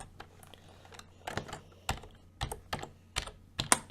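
Close keystrokes on a computer keyboard as code is typed, irregular clicks and taps with short pauses between bursts, quiet and alone.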